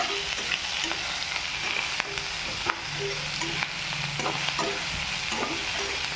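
Carrots and beans stir-fry in a pan for vegetable idly upma, a steady close sizzle under repeated scraping strokes of a spatula, with no talking.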